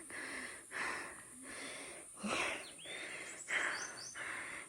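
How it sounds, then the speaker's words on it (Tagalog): Heavy panting while climbing uphill on a trail in Paete, Laguna: rhythmic, close breathing with wheezy gasps about every second, fairly loud, with faint bird calls in the background. "Sobrang hingal."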